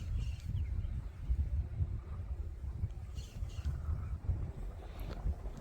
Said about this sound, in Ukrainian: Дуже сильний вітер.